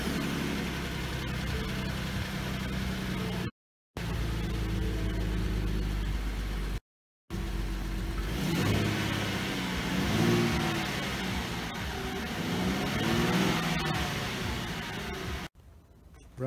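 A 2016 Ford Mustang V6 with its stock intake runs steadily under the hood, a close, even idle drone with a couple of brief dropouts, then a few revs rising and falling near the end.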